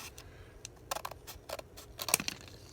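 Several sharp, close snips of scissors cutting paper, irregularly spaced, with small crisp clicks between cuts.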